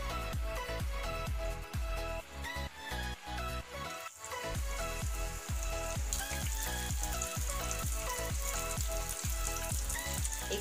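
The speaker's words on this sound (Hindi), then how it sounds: "अब हम गैस की फ्लेम को लो कर देंगे और हम पुए को तलने के लिए डालेंगे।" Moong dal malpua batter fries in hot ghee in a pan over a low flame, giving a continuous close crackling sizzle with dense popping throughout.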